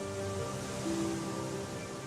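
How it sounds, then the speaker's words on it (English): Ocean waves wash onto a Devon beach in a soft, continuous surf hiss with a low rumble, steady and fairly faint, with no distinct birdcalls standing out. "All you can hear are the waves and the birds."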